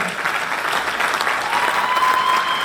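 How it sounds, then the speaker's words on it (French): Steady applause from the audience at a university graduation ceremony, many hands clapping in a full, even roar for a few seconds, with a thin tone appearing near the end. "applaudissements s'il vous plaît."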